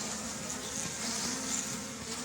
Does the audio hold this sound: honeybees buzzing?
yes